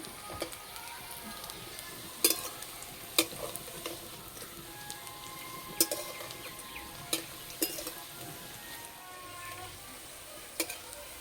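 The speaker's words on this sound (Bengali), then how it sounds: "এপিট ওপিট ভালো করে ভেজে নেব।" Semolina onion fritters turn and fry on both sides in oil, with a steady fine sizzle punctuated by periodic sharp clinks of a spoon or spatula against the pan.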